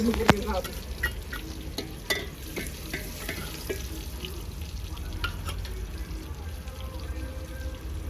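Onions frying in a pan over a gas flame in a home kitchen, a steady soft sizzle with occasional sharp clicks and scrapes of stirring, fairly close, with a brief voice near the start.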